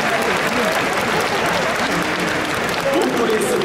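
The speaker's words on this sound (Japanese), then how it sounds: "拍手でお迎えください。" A baseball stadium crowd applauds to welcome boat racer Koji Ikeda for a ceremonial first pitch; steady, wide, continuous clapping fills the space while an amplified voice carries faintly over it.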